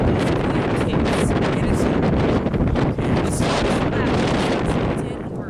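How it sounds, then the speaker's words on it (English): Strong gusts of wind buffet an outdoor microphone on a windy day, producing a loud, continuous roaring rumble with uneven thumps that eases slightly near the end. "Kind of waiting for the wind to pass. It is pretty windy today"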